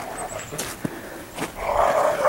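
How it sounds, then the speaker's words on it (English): Dogs playing rough with each other, giving short growls and yelps in bursts, with a louder growling stretch toward the end, fairly close and without talk. "if you listen to my dogs, sound like they're killing each other"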